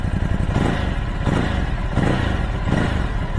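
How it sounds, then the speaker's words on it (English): A 2023 Ducati Hypermotard SP motorcycle revs with a little gas, a loud, close, steady engine roar with slight swells in rhythm and no talking. "this is how it sounds with a little bit of gas."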